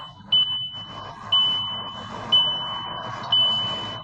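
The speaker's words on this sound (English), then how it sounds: "when I'm driving without a seatbelt, it's constantly beeping and warning, like this continuously" A high electronic car seatbelt warning beep repeats four times at a steady pace, about once a second, over a low droning hum while driving.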